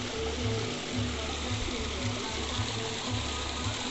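A hillside stream flows in a steady broadband rush, constant and fairly close, with low rumbling pulses from wind or handling beneath it.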